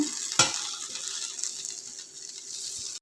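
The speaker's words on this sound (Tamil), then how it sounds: "மெல்லமாக கலக்கி கொடுங்க" Potato poha being gently stirred in a pan, one sharp clink of a utensil near the start, then a soft steady sizzle with faint scraping strokes.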